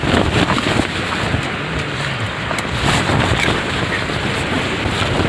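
Strong wind gusting across a hilltop on Bukit Trunyan during a hike, a loud, steady broadband roar buffeting the microphone throughout, swelling slightly in the middle and end, with no voices.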